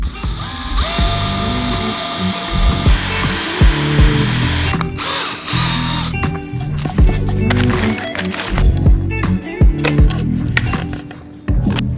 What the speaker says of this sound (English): the first thing we need to do is drill a hole in the bottom of this one